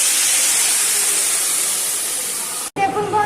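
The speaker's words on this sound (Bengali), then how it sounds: "মৌরালা মাছের টকে আমের ঝোলটা ফুটে গেছে" Mango gravy for a sour mourala fish curry boiling in a pan, a loud, steady broadband hiss and bubble that cuts off abruptly near the end, followed by brief noise.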